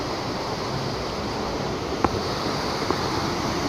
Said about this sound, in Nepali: झरना चाहिँ राम्रो छ।